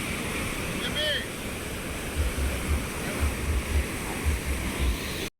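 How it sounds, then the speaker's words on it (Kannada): Rushing water at Vani Vilas dam near Chitradurga, a steady broadband roar with wind buffeting the microphone and low rumbling gusts throughout. "ನೋಡಿ ನೀರು ಎಷ್ಟು ಜೋರ ಬರ್ತಾ ಇದೆ ಅಲ್ಲ?"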